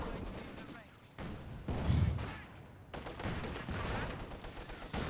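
Gunfire and heavy blasts from Company of Heroes 2 battle against infantry: dense crackling volleys and booming explosions, loud and continuous with brief lulls, near and overlapping.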